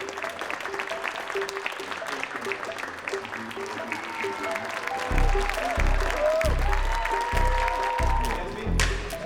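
A crowd on a film set breaks into loud, sustained applause with some cheering, the clapping swelling midway and carried over a rhythmic low thumping pulse, with voices mixed in.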